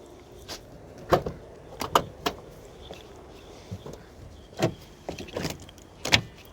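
A Ford Expedition truck's power window glass runs in short motor bursts, mixed with sharp clunks and door knocks and a few footsteps, close by against a faint outdoor background.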